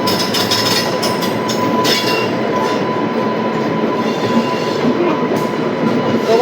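A passenger train on the Porbandar–Rajkot route in Gujarat rumbles steadily at close range, with a continuous roar of wheels on rail and a faint sustained squeal.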